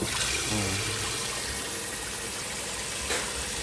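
Water runs steadily from a kitchen sink faucet fitted with a shower-style spray head after its clogged outlet was cleaned, giving a continuous close hiss of spray with no talking.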